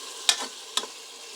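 Onions frying in a pan for spiced Kashmiri kidney beans: a soft, steady sizzle broken by two quick scraping stirs close by, with no voices.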